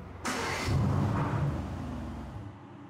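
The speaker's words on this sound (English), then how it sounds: "now I really want to start the car up and hear the startup for the first time." A 2019 Mercedes-AMG GT R Pro starts up close by: a sharp starter crank catches into a loud burst of revs, then drops to a rumbling, steady idle that fades slightly.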